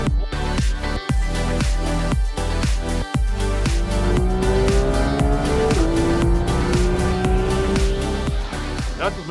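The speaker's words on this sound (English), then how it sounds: "strapped in for a lap of the Kyalami circuit" A race car laps the Kyalami circuit with the engine roaring loud and close, rising and falling through gear shifts with brief cuts between them, and a long climbing whine as it accelerates.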